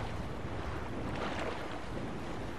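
Water moving in the video game Sekiro, a dense, steady wash of rushing, surf-like noise without clear breaks.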